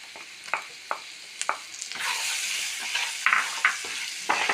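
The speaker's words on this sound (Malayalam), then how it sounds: "നന്നായിട്ട് മുരിയട്ടെ" Chili powder and garam masala fry in a pan for a potato curry, with a steady sizzle and repeated sharp scrapes and taps of a spoon stirring the spices, close and fairly loud, no voices.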